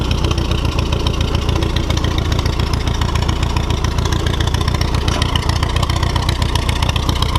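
A Case VAC tractor engine runs on its own after sitting for decades. It gives a loud, close, steady pulsing chug at idle with slight throttle variation, and there is no talking.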